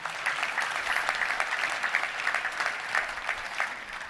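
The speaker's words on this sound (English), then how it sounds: "Let's give it up a round of applause for all of our great sponsors," A Touchdown Club luncheon crowd applauds its sponsors with sustained, dense clapping, loud and even throughout with no talk over it.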